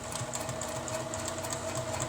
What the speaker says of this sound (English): I'm going to do a couple of stitches and then back stitch here